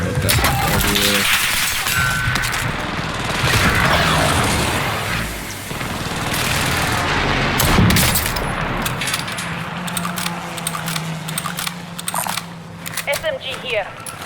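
Gunfire in Call of Duty: Warzone, with booming shots and bursts scattered through a busy firefight while players talk over the noise.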